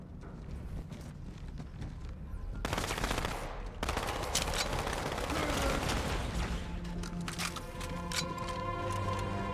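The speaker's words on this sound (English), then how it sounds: "Stop shooting me." Rapid automatic gunfire in a Halo firefight against the Covenant, dense crackling bursts that intensify midway and keep going, fairly quiet overall with faint game sounds mixed in.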